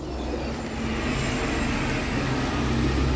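Street traffic below an apartment balcony in Alanya, Turkey, forms a constant low rumble of passing vehicles, moderately loud and unbroken, with no talking.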